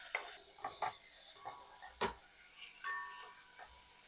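Quiet sizzling of chicken frying in ghee in a pan, with scattered clinks and scraping of a utensil, intermittent knocks against cookware.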